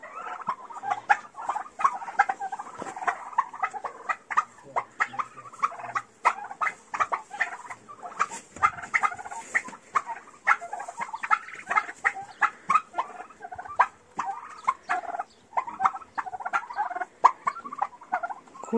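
Small chicken chicks and turkey poults peep and cheep constantly, rapid high chirps and soft pattering close by outdoors, with no talk.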